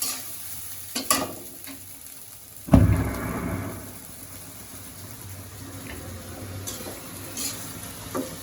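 Potato and eggplant frying with spices in a pan, a steady low sizzle with scraping stir strokes, one sharp clatter near the start, then continuous bubbling and hiss with occasional stirring knocks.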